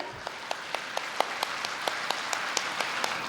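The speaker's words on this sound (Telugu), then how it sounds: "ఆ బాలరాముడికి ఈ హాలు మారిమోగిపోయేలాగా చప్పట్లు కొట్టాలి." Audience in an anniversary gathering hall clapping in unison, a steady rhythmic beat of about four claps per second over a soft murmur, moderately loud and evenly paced.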